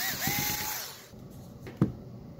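A power driver whirs briefly with a rising then falling whine as a Christmas projection spotlight is taken apart, followed by quieter handling clicks and a sharp knock near the end.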